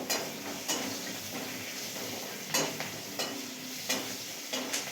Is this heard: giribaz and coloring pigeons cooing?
no